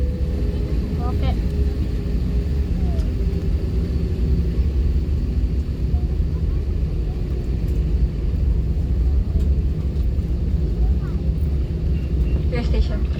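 Philippine Airlines Airbus A319neo engines during takeoff, heard from inside the cabin as a loud, steady low roar and rumble that holds throughout.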